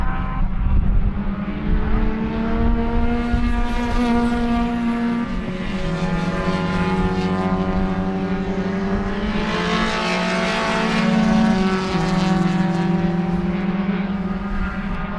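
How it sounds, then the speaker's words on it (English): Race cars in a Sebring two-hour endurance race roar through the exit of turn 5, loud engines rising and falling in pitch as several cars pass one after another. "Racers make their way around turn 5"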